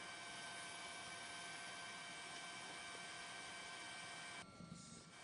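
A news helicopter over the tsunami-hit Sendai area drones steadily with a constant whirring engine tone and high whine, then the sound dulls abruptly near the end.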